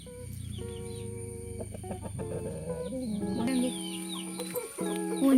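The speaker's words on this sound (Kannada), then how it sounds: "ಇದು ದೊಡ್ಡ ಹುಂಜ, ಇದು ಅದು ತಿನ್ನಲಿಕ್ಕೆ ಕರೀತಾ ಉಂಟು" Big rooster of a country-breed backyard flock clucking to call hens to food, close repeated low clucks and calls over other chickens, with no talking.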